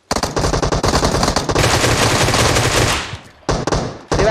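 Rapid automatic gunfire from PUBG Mobile blasts in a loud, sustained burst, with clattering shot after shot, then a short pause and two more brief volleys at close range.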